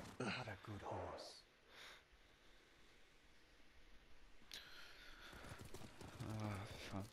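Horse hooves clip-clop and a horse snorts in the Ghost of Tsushima video game, a few hoof falls and sniffing breaths heard close alongside spoken dialogue.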